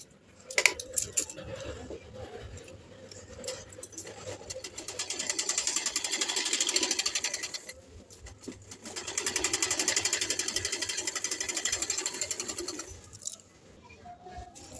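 Sewing machine stitching a suit, rapid mechanical whirring in two long bursts separated by pauses, with clicks and handling noises between runs; pigeons coo faintly in the background.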